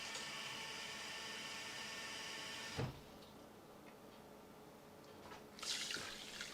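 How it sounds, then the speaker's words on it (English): Water poured from a cup onto a cup of uncooked rice in a cooking pot. It makes a steady splashing rush for about three seconds, then a quieter stretch, and a brief burst of water noise near the end. "I'm going to add exactly the same amount of water."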